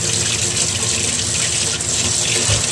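Steady gush of water from a hose pouring into a sink, loud and continuous, with no talk over it.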